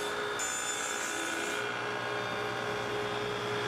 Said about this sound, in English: cutting the strips down on the table saw slightly oversized for the first pass